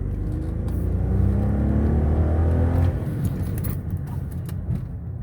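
A 2008 Chevy Malibu LTZ with 167K miles drives along with a loud, steady engine and road rumble that drops sharply as it brakes hard, leaving a softer whir and tire noise.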